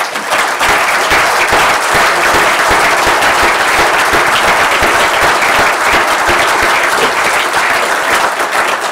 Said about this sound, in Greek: να σας ζητήσω να δώσουμε άλλο ένα χειροκρότημα στη Ρένα Τιδούρου.